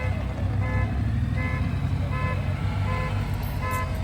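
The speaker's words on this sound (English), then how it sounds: "my truck alarm's going off" A truck alarm honks its horn in repeated short blasts at a steady pulse over a constant loud low rumble near a shop where a CFMOTO U10 Pro is being put on a dyno.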